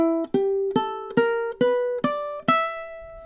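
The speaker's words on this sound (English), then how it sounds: "today we're going to work on this blues scale and it sounds something like this" An E blues scale picked on a ukulele, seven distinct plucked notes in a steady ascending run, each ringing briefly before the next, played alone and close.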